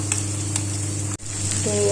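Kozhuva fish and curry leaves sizzle steadily in hot oil, a loud close crackle with a brief break midway before the frying hiss resumes.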